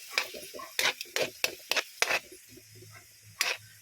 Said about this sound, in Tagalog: Atin naman itong halu-haluin hanggang ito ay maging crispy siya mga amiga.